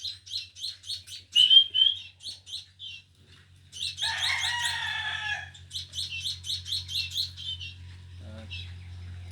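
Small sparrows chirp in quick repeated bursts of high, bright tweets, with a busier chattering flurry in the middle, close by and over a faint low hum.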